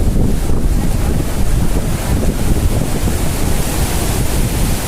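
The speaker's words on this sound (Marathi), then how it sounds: "सध्या बघा लाटा आढळत आहेत समुद्र किनाऱ्यावर" Sea waves wash onto the beach on the Harihareshwar coast while strong wind buffets the microphone. The result is a steady, loud, roaring wash with no voices.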